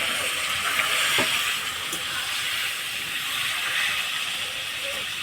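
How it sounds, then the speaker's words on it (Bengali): Meat frying in hot oil in a pan for a Bengali chicken dish, a steady loud sizzle with hissing steam and a few faint utensil taps. "এই তেলেই আমি মাংসগুলো ভেজে নিব।"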